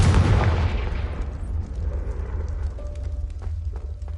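A Confringo fire spell in the Hogwarts Legacy video game bursts with a loud, deep explosive boom that rolls into a long, decaying rumble and hiss, with no voices.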